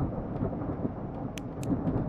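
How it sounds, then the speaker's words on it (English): Thunder from a brewing storm in the video game Backrooms rolls as a steady, deep, continuous rumble with a couple of faint higher ticks, heard alone without voices. "That sounds like a storm's brewing."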